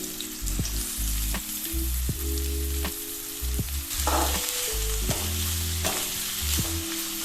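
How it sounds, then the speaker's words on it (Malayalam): Two finely chopped onions frying in hot oil for egg masala, a strong steady sizzle close by, with low hum and occasional stirring knocks underneath, no talking. "എണ്ണ ചൂടായ ശേഷം നമുക്ക് ഒരു 2 സവാള നൈസായിട്ട്, വളരെ നൈസായിട്ട് കട്ട് ചെയ്തതാണ്, അതിട്ട് കൊടുക്കുന്നുണ്ട്."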